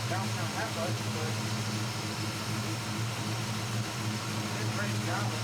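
A carburetted engine, its idle just raised with a carb cheater adjustment, settles into a steady low idle that hums evenly throughout, with faint voices in the background.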